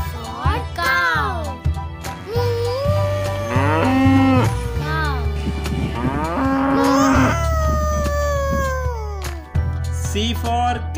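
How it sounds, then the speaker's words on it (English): A cow moos in a children's phonics song, several drawn-out lowing calls over a steady musical backing with a sung voice woven through. "C for cow."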